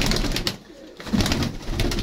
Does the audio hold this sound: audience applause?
no